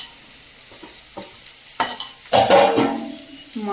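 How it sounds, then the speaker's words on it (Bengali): Bitter gourd frying in a home kitchen pan, with steady close sizzling, brief stirring scrapes and a louder burst of spitting oil midway, no talk over it. "উচ্ছেটা ওইদিকে ভাজা হচ্ছে"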